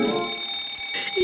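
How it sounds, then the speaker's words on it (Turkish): A fire alarm rings continuously, a steady piercing electronic tone that holds loud throughout the short stretch. "Yangın alarmını biz çalıştırdık."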